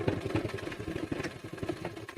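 A sewing machine stitches the leg of a pair of trousers, running in a quick rhythmic clatter of needle strokes. The sound is faint and brief.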